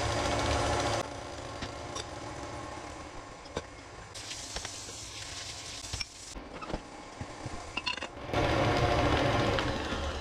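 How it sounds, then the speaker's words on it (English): An electric mixer beats cookie batter at a higher speed, a loud steady whirring drone that dips in the middle with scraping knocks and then surges back up. "turn up the speed a little bit and just keep beating this until it's creamy"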